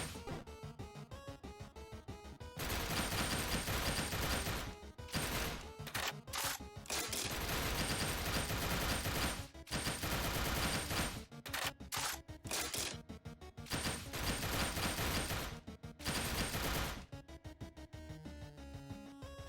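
A small pistol fires in Burst Hero in dense, rapid video-game bursts with brief gaps between volleys, loud and continuous throughout, with no voices.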